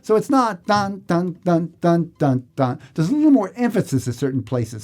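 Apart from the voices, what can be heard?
No everyday noises stand out.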